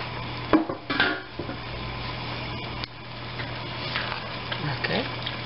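Fettuccine is stirred in a pan, giving close, scraping utensil clatter and soft sizzling, with a few sharper knocks against the pan, while a person talks.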